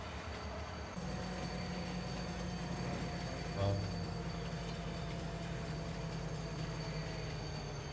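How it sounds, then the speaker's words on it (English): A train in the Farming Simulator 25 video game rumbles steadily and loudly nearby, with a sustained low drone and faint metallic wheel squeal throughout, and no talking. "The train will show up, but it will not stop at the"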